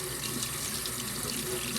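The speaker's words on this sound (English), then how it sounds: "Rinse the dried monk fruit under running water." Tap water runs in a steady, close rush as dried monk fruit is rinsed under the stream, with no voices.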